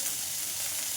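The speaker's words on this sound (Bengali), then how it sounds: "এটা একসঙ্গে সুন্দর করে ফ্রাই করে নিচ্ছি" Green chilies and almonds fry in a pan with a steady, close hiss of sizzling oil throughout one short stretch.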